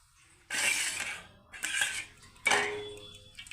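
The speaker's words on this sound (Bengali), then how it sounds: "ছাঁকনিতে করে আমি ছেঁকে নিচ্ছি।" Liquid from a boal fish preparation strained through a sieve set over a bowl: three separate bursts of splashing, clinking pouring, each fading out, close and alone with no voices.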